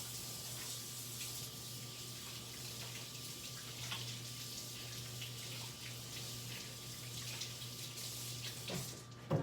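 A kitchen sink tap runs as hands are washed after handling raw meat, a soft steady hiss of water over a low hum, with a brief clatter at the very end.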